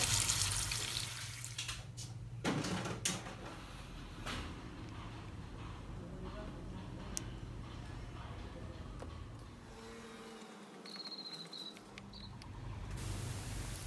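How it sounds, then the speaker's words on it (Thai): Washing machine filter from a Hitachi washer rinsed under a running tap, a steady close rush of water with splashing and handling knocks, pausing briefly before the flow resumes. "ดึงถอดตัวกรองเอาไปล้าง แล้วกลับมาใส่ให้เรียบร้อย"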